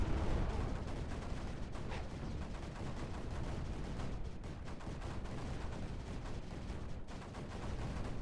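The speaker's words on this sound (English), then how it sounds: "Need to keep bringing these mortars over." Mortars fire in the strategy video game Creeper World 4 as a dense, continuous barrage of low rumbling thuds and crackling impacts. The sound stays steady and fairly loud throughout, with no talking.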